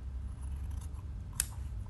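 Scissors snip through shirt fabric while the front of a Russian-style shirt is trimmed, a few quiet close cuts with one sharper snap near the end over a low background hum.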